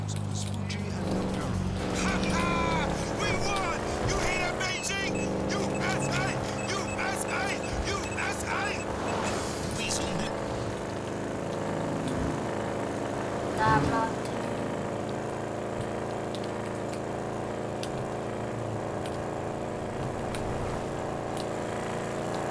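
Car engine hums and revs while driving in Grand Theft Auto V, a steady motor drone with shifting pitch and a brief tire or impact accent midway, while voices talk over it throughout.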